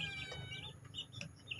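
Young chicks that were put together after one night cluck and cheep softly, with a few faint, brief calls over a quiet background.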